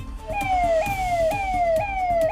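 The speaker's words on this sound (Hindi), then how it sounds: "ये सायरन की आवाज वो आहट है जो बदमाशों को अच्छे से महसूस हो रही होगी" A UP 112 police vehicle siren in Kanpur wails loud and close, a rapid repeating downward-sweeping yelp cycling about every half second over a low engine rumble.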